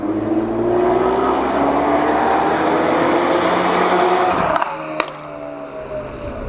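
A 2017 Ford Focus RS engine drones loudly under acceleration with rising tones, then a gear shift cuts the note and a sharp exhaust crack pops out before the engine settles into a lower hum.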